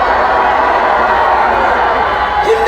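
Dense, loud roar of a large crowd shouting at an outdoor political rally in Seoul, a continuous wash of voices with no break.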